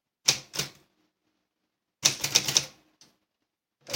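Royal Epoch typewriter typing on inserted paper: a couple of sharp keystrikes, a pause, then a quick burst of four or five clacks and one faint tap, close and crisp with no talk.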